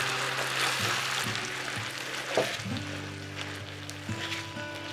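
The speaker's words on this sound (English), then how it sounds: "here they are frying together" Steady sizzling of chicken tikka masala frying in a pan with tomato puree, a continuous hiss with low hum tones shifting in the background, no voices.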